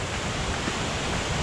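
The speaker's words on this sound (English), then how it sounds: "What a great waterfall." A waterfall rushes in a dense, constant roar of falling water, steady and close, with no voices over it.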